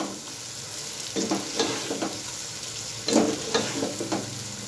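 Beef brain fries with masala in a pan, making a close, crackling sizzle. Several bursts of stirring scrapes rise above the hiss, with no talking.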